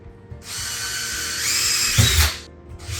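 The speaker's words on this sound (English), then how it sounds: "It's not only good for drywall, but also for drilling into ceramic tile." A power drill whirs up and bores steadily into a plastic wall panel for about two seconds, its pitch dropping under load before it stops, then briefly restarts.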